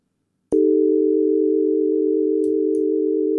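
Ambient synth patch from the Pigments software synthesizer with vibrato, a single steady sustained tone entering sharply and holding loud and unbroken, with a couple of faint clicks partway through.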